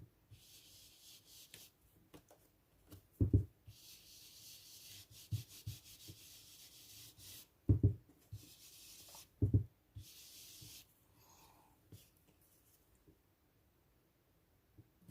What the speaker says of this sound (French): passer tout doucement votre brosse et la couleur se fait d'elle-même